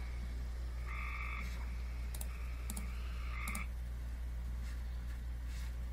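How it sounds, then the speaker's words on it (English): A North Dakota frog gives a short, raspy trill, repeated in brief bursts over steady background noise, with several quick clicks between the calls. "they're all just this short little raspy trill"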